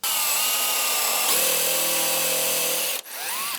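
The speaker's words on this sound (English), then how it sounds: "that's where we're gonna make our pre-drill and then put our screw through there" Power drill pre-drilling pilot holes and driving 2 1/4 inch screws into a wooden end table joint: a loud continuous motor whine that shifts pitch partway through, then stops abruptly before a short final spin-up.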